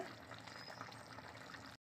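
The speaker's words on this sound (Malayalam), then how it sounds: "കുറച്ച് നെയ്യ് ഒഴിക്കുന്നുണ്ട്" Ghee poured steadily into a hot pan sizzles, continuous and close, then cuts off abruptly near the end.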